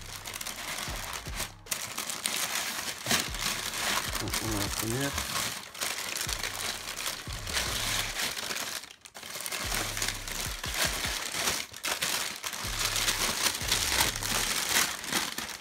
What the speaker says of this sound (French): Déjà vous pouvez voir qu'elle est emballée dans plusieurs couches de papier.